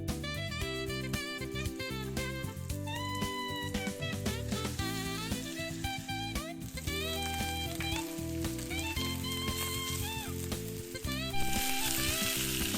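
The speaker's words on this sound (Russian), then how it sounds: "Обваливаем куски в муке и обжариваем на сковороде с двух сторон до появления румяной корочки." Floured beef cheeks frying in a pan until browned give a steady sizzle beneath continuous background music.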